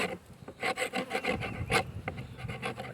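Old propolis being scraped off a wooden beehive lid, a steady run of close, dry rasping strokes repeating in a loose rhythm with no talk.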